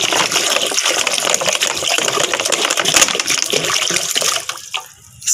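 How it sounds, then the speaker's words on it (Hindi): About a liter of water gushes loudly into a bucket while tending a rose plant, a continuous splashing pour that tapers off and stops near the end. "इसी को मेंटेन करने के लिए मैं देखिए इसमें 1 लीटर पानी डाल देता हूँ।"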